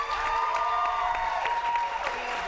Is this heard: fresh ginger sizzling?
no